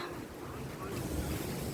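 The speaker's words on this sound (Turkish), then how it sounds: "Yine rüzgarlar bastırmaya başladı." Strong wind blowing at Sapanca, a steady roaring rush of gusts buffeting the microphone with low rumble and broad hiss throughout.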